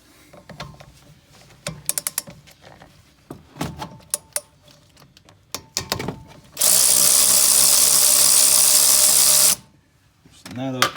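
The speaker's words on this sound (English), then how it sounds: "We get our ratchet, make sure it's going the right way." A ratchet loosens the 14 mm rear brake caliper bolt on a 9th-generation Honda Civic Si, heard as scattered clicks before a loud, steady three-second burst of dense rapid ratcheting that stops abruptly.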